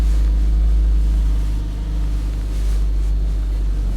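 A salvage-auction car with front-end damage idles after starting, a loud, close, steady low engine drone that holds evenly throughout with no revving.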